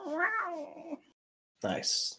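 A person does a vocal meow imitating a cat during a tabletop role-playing game session, a short harmonic mew followed after a brief gap by a breathier second cry, close and fairly loud.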